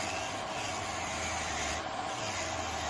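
Electric nail drill, a 45,000 RPM file, grinding down a fingernail: a steady close high-pitched whine with a continuous gritty rasp of material being removed, alone without talk.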